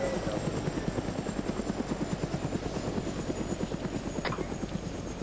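A video game helicopter's rotor thumps steadily and loudly throughout, a continuous rhythmic chopping over engine drone.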